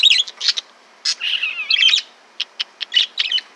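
Pet birds out in the open air for the first time this year give a run of short, bright chirps and tweets in quick irregular bursts, fairly close and clear, with no talking underneath.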